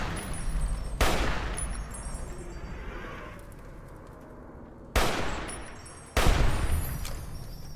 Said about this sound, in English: There we go. 5 shots.